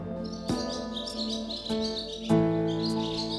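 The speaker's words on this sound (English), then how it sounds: "the family heard a familiar birdsong" Birdsong in the springtime, set in a children's fairy tale about the king of the birds: a quick run of high chirps and tweets over soft musical backing, with three brighter accents standing out, fairly close and clear, no voices.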